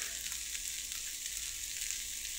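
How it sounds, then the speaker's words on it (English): Meat sizzling steadily on a hot surface, a constant bright hiss up close with no talking. "Meat sizzling."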